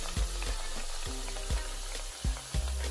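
Green plantains frying in hot oil, a bright steady sizzle with a few louder pops and bubbling bursts spaced through it, close and alone with no voices.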